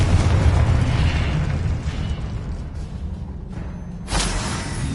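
A Confringo fire spell bursts in the Hogwarts Legacy video game with a deep booming explosion and rumbling blast, followed by a second sharp burst near the end, loud and without speech.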